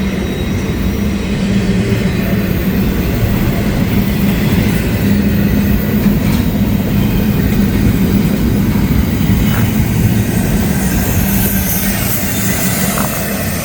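A freight train passes southbound, its loud, steady rumble and wheel clatter continuous and close from start to finish.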